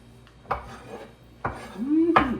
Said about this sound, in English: I always use the back of my knife for sweeping stuff in.